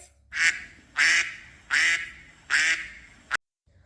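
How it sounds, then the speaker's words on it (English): A duck quacks four times in an even, evenly spaced rhythm, loud and close, followed by a short fifth quack that cuts off abruptly. "Duck says."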